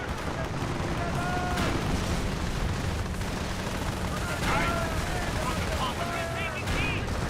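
Gunfire in the real-time strategy game Company of Heroes, with steady rattling small-arms and machine-gun bursts over a continuous battle rumble, accompanied by a few whistling tones.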